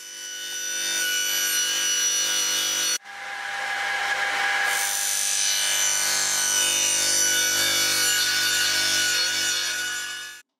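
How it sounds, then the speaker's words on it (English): Loud, close saw cutting through a wooden board clamped to the fence, a continuous rasping cut that breaks off briefly near three seconds and then resumes until the end, with no talking. "Before I make the cut, I clamp the board to the fence as a precaution to any kickback that may occur."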